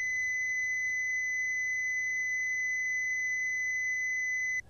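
A single high-pitched 2000 hertz test tone, steady and piercing, sustained evenly for nearly five seconds before stopping suddenly.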